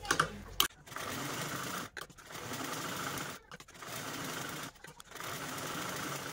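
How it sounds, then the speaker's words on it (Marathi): Sewing machine stitching around all four sides of a fabric pocket with a lining attached, a steady close mechanical whir in long runs broken by brief pauses, with no talking. "हे चारही बाजूने स्टिच करून घेऊ"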